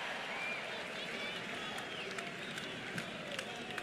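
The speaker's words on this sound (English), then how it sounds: "The crowd comes alive." Baseball stadium crowd at a college game between the Oklahoma Sooners and LSU Tigers, a dense roar of cheering and scattered clapping rising steadily, broad and constant throughout with no clear individual voices standing out.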